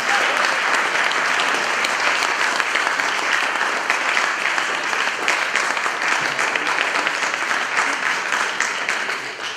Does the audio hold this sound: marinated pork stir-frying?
no